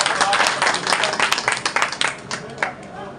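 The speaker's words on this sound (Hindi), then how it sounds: "एक बार जोरदार तालियों से" A crowd at an election rally in a grain market claps for a welcome, with dense, rapid applause that thins toward the end into scattered individual claps, and a voice heard over it.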